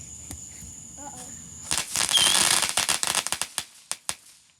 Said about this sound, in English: These are bottle rockets.